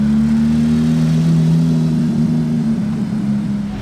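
Ultraviolet Porsche GT3 RS passing in Monaco traffic, its engine holding a loud, steady droning tone close by that eases off slightly toward the end, with no talk over it.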